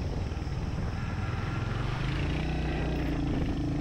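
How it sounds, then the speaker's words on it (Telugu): Royal Enfield Hunter 350 motorcycle after its first service, a steady low exhaust drone while riding, continuous and fairly loud under wind rush, with no talking. "ఎగ్జాస్ట్ నోట్ అయితే మాత్రం కొంచెం స్ట్రాంగ్గా వినిపిస్తుంది."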